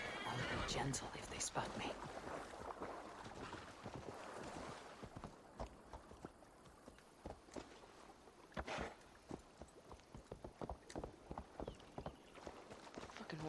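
A horse neighs and its hooves clip-clop in a video game, with a loud whinny early on and scattered hoof strikes afterward, heard under a voice talking.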